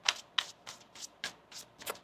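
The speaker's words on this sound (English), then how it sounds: "One more shuffle here." A deck of tarot cards is shuffled up close in about seven quick, evenly spaced riffling bursts, soft and crisp with no talking.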